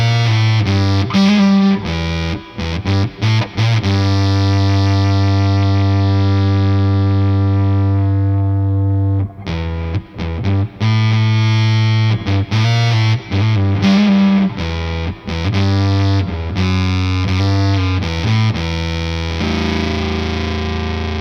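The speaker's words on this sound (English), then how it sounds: "I never thought I'd be putting a nylon string through a fuzz pedal" Cordoba nylon-string guitar played through a fuzz pedal, a loud, thick distorted tone with sustained chords and tapped runs broken by short stops, steady and close with no talking.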